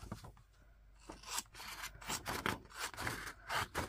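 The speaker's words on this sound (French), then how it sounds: "Je viens couper l'excédent." Scissors snip away excess paper in a rough, scraping series of cuts that grows busier and louder after a quiet start, heard up close with no talking.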